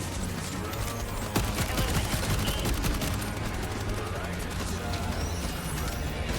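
Machine gun fire in Helldivers 2 against Illuminate enemies: dense, continuous bursts of rapid shots with crashing impacts and chaotic battle noise throughout, loud and close, with voices talking underneath.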